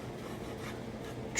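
A 10-inch DeWalt taping knife scrapes dried skim coat and trowel lap marks off a wall, giving a continuous close, dry rasping scrape with steady loudness and no talking.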